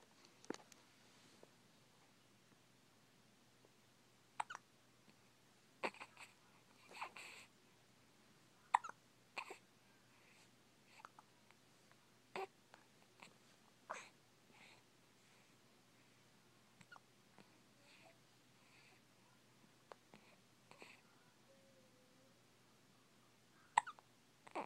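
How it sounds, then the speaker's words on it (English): A baby hiccups repeatedly in a quiet room, with short sharp hics spaced irregularly every second or few seconds, faint and close, with no talking. "She has the hiccups right now."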